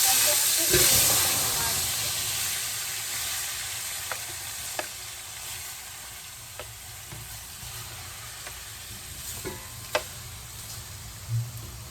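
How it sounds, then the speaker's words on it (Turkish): A steady, soft sizzle of garlic frying in a pan, with scattered pops and light stirring clicks throughout. "Sarımsaklarım kavruldu"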